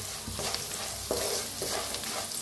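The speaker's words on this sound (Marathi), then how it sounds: "आता छान मिक्स करून भाजूया." Sliced onions with turmeric and salt sizzle loudly in a hot pan while being stirred, close up, with crackling frying noise and occasional scraping strokes of the spoon, and no talking.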